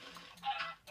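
A Minecraft chicken gives a few short, brief clucking calls, close and fairly quiet, with small pauses between the bursts and no speech over them.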